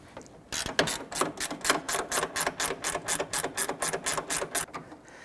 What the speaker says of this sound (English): It's 13mm nuts on there. We're going to use a gear wrench on there.